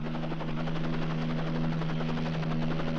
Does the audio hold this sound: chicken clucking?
no